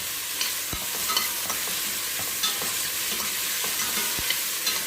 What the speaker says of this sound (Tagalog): haluin ko lang yung sibuyas guys